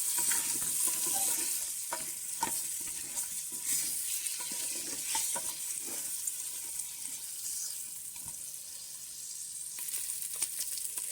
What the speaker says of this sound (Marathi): आता हे पूर्णपणे मिक्स करून घेऊ